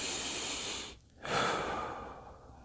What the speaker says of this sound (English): You can take 3 to 20 deep breaths.